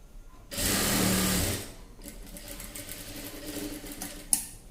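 A sewing machine stitches a folded two-inch fabric edge on chudi pants, a close mechanical whir in one burst of about a second and a half, followed by quieter intermittent machine clicks and a sharp tap.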